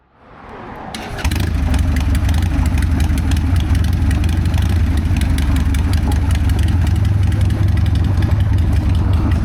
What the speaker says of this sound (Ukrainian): А тепер ви самі почуєте, чому я люблю свій старий карбюраторний байк.